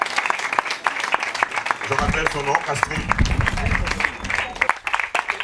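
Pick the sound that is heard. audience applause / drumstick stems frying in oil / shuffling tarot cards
audience applause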